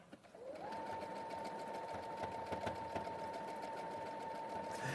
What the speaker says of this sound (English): I'm sewing through fabric and wadding here.